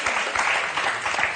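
A studio audience on the French game show Motus claps briskly in a short, dense burst of applause, loud and close with no voices.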